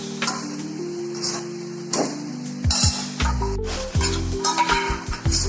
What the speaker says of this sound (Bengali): ভালো করে নেড়ে নেড়ে এবার ঢাকা দিয়ে দেবো।